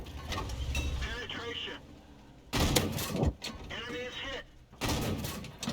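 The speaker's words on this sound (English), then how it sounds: "He's still firing premium ammo." Tank guns fire premium ammunition in World of Tanks, including an M2 light tank, as two loud booming shots with crackling tails between stretches of speech.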